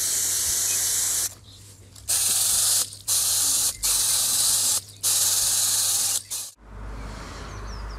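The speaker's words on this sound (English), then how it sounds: "take my hose and just wash off all the dirt" A garden hose sprays loud, close, hissing bursts of water to wash dirt off chilli plant roots. About five spurts are broken by short pauses, and a dull knock follows at the end.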